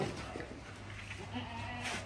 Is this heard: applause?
no